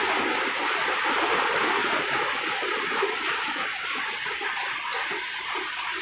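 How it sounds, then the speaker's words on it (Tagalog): Rainwater leaking and dripping indoors during a downpour, heard as a continuous loud rushing, splashing wash of water with no clear individual drops and no speech. "Pag umulan, tulo-tulo na yan."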